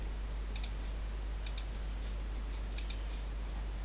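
A computer mouse clicks on a web page in three quick paired clicks, sharp and close, spaced about a second apart over a steady low electrical hum.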